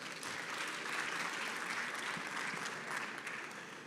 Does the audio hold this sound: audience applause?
yes